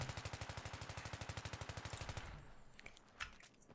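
An M4A1 rifle in Battlefield 3 fires a long, rapid automatic burst of evenly spaced, punchy shots for about two seconds, then stops, leaving a fading echo and a few faint clicks.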